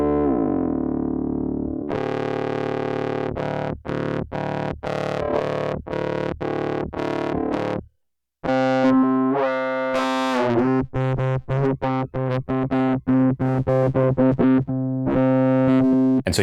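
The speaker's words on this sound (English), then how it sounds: "it sounds really good just as a distortion plugin by itself" A distortion plugin on distorted, gritty synth tones playing in choppy rhythmic bursts with a short gap midway, the notes sounding buzzy and saturated throughout.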